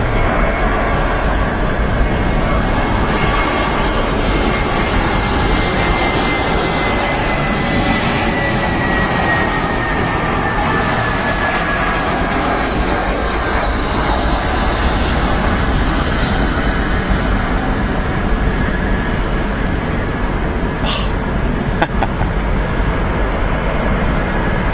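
A Boeing 747 airliner comes in to land at an airport, with a loud, continuous engine roar and whine that holds steady throughout without talk.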